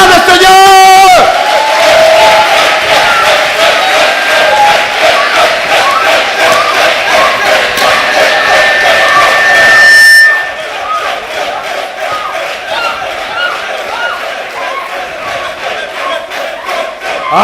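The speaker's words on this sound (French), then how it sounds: "On acclame le Seigneur." A church congregation at a deliverance service cheers and acclaims the Lord, a loud, dense crowd roar of shouting voices with a shrill sustained tone, which drops abruptly midway to a quieter, continuing murmur of voices.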